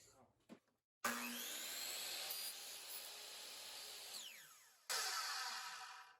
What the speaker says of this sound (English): so now I've cut all the way through the back piece on the 1/8" MDF